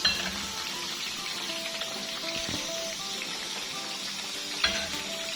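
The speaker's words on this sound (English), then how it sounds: "Put some little oil, wait a bit to have it heat." Oil heating in a pan for Swahili biriani gives a steady, soft frying sizzle that runs throughout, with a light clink or tap near the end and no talk.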